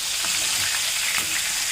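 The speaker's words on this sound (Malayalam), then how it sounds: "ബാലൻസ് ഇരിക്കുന്ന ചിക്കൻ ഇതുപോലെ നമുക്ക് വറുത്തെടുക്കാം." Chicken pieces for fried chicken biryani frying in a pan, giving a steady, close hiss of hot oil with faint crackles and small stirring sounds throughout, no voices.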